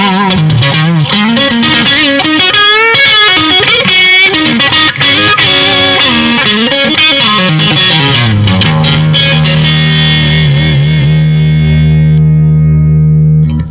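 A 1962 Fender Stratocaster Custom Shop limited edition plays through the neck pickup with effects and light overdrive. Loud bluesy lead lines with bends and vibrato end in a long sustained chord that rings out.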